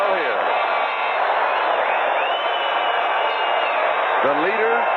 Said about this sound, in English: Sellout crowd here, and they are still here.